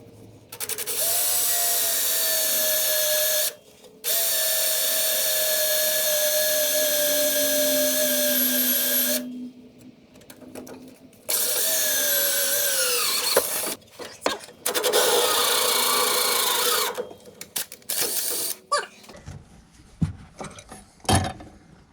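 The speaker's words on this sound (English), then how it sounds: "I'll work out where I'm going to drill and tap for my back pressure sensor" A pre-turbo exhaust on a Nissan Navara with a VG30 engine is drilled and tapped for a back pressure sensor, heard as long, steady, high-pitched power-drill runs broken by short pauses, then choppier bursts of tapping and ratcheting near the end.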